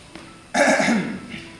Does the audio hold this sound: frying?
no